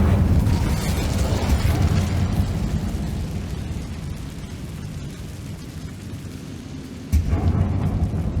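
An Incendio fire spell blast in Hogwarts Legacy gives a loud, rumbling roar of flame that fades over several seconds, then a second burst near the end.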